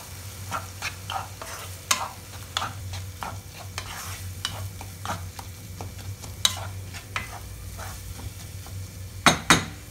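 A spatula stirs egg bhurji, spiced scrambled eggs being fried in a pan, with a steady sizzle beneath repeated scraping and tapping strokes against the pan and a few sharper clinks near the end.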